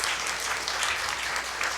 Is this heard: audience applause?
yes